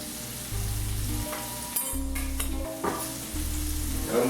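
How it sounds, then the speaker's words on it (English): Filet mignon sears in European salted butter with rosemary and garlic, a steady close sizzle with a few stirring clatters, under a looping musical backing. "You start smelling the garlic getting roasted in there with the butter and the filet"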